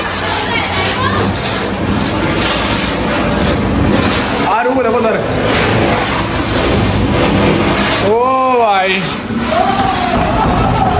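Diwali firecrackers whistle and burst outdoors, with two sharp blasts carrying rising, wavering whistles, over a steady background of crowd chatter and voices.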